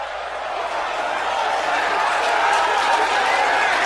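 A wrestling crowd cheering during a triple threat elimination match, a steady broad roar of voices swelling slightly over a few seconds, with commentary underneath.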